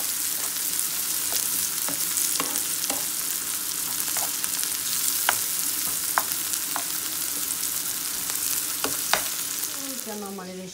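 Hilsa fish with onion sizzles steadily in hot oil in a home kitchen, a dense continuous fry broken by repeated sharp scrapes and clicks of a spatula stirring the pan.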